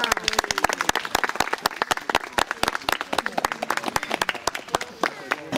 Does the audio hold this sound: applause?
yes